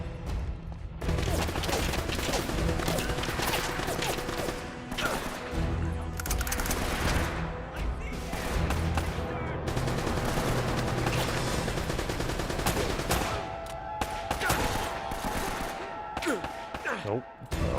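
Gunfire from the player's favorite gun in Uncharted: Drake's Fortune, a dense, sustained rattle of rapid shots and loud reports over busy game noise, with someone talking at times.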